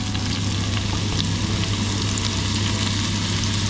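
Onions frying in the same pan used for browning beef for a Caribbean beef curry, a steady, dense sizzle that stays loud and even throughout with no talking.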